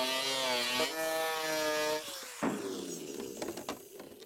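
Sheet of plywood being cut with a power saw along a marked cone shape, a whining, strained tone that drops as the blade bites, then breaks into scraping, rasping bursts, close and moderately loud.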